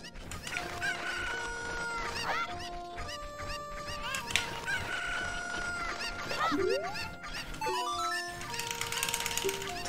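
Chickens cluck and a rooster crows in Zelda Ocarina of Time, with repeated bird calls layered over sustained melodic game tones throughout.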